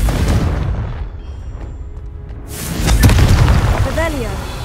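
Confringo blasting spell explosions in the Hogwarts Legacy video game: a loud booming blast arrives about three seconds in after a quieter stretch, trailed by rising magical whooshes, with a player voice over it.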